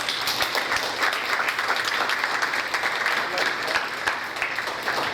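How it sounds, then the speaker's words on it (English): Graduation class day crowd at a high school giving vocational teachers sustained, dense applause, steady and fairly close throughout, with voices mixed in. "let's give a huge round of applause for your vocational teachers"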